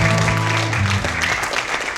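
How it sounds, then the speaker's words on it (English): An audience applauds volunteers at a small music event, and the clapping is brief and moderate. Lingering musical or vocal tones sit beneath it, and the sound tapers off after the first second. "Let's give them all a big round of applause."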